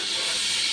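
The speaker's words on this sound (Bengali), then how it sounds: "মাছ ভাজা হয়ে গেছে" Prawns frying in a pan, a steady broadband hiss and sizzle that holds at an even level throughout with no talk over it.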